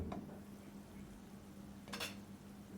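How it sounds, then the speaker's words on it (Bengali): A lid set onto a cooking pot of prawns for biryani, a faint metallic clink near the start and a brighter clatter later over low kitchen hum. "এখন ঢাকনা দিয়ে দিলাম"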